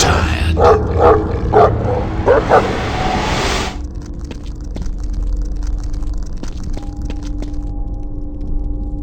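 Hounds bark in the video game The Suffering, a burst of repeated close barks and yips at first, then fading under a low droning ambience with faint tonal hums.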